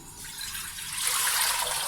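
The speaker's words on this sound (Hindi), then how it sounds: "पानी डालते हैं।" Water poured from a height into a cooking pot to boil rice, a steady close splashing rush that swells louder partway through, with no talking.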